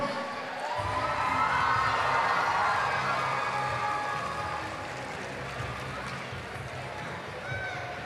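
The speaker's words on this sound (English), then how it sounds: "Let's have another big round for them." Outdoor crowd at the Kenora Bass International fishing tournament cheering and applauding, a broad swell of cheers that fades to a lower murmur, with some talking mixed in.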